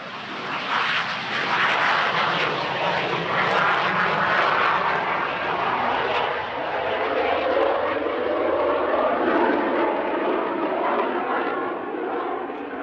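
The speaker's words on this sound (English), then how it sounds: "Frederick Ackery performed a practice display in his CL-13B Sabre Mark VI" A CL-13B Sabre Mark VI jet flies a practice aerobatic display at Duxford, producing a continuous, moderately distant engine roar whose pitch sweeps and shifts as the aircraft passes overhead.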